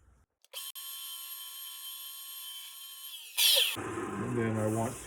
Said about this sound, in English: And for that, we'll use a parting tool.